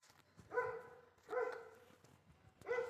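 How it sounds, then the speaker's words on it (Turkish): A dog barks in three spaced, moderately distant barks with a tonal, somewhat whiny quality; no sounds of a scuffle stand out. "Köpekler birbirine doluyor"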